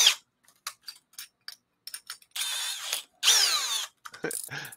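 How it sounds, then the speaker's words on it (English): A new Milwaukee power drill whirs close up in two short, loud bursts of rising whine, with scattered sharp clicks and taps of the tool being handled before and after. "just a drilling"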